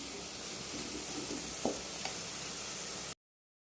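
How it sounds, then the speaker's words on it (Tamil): Steady oil sizzle as masala for fish curry sautés in a pan on a medium flame, constant and close, with a couple of faint stirring clicks partway through before it cuts to silence. "நல்லா மீடியம் ஃப்ளேமில் வச்சு இதுவும் எண்ணெய் பிரிகிற அளவுக்கு நல்லா"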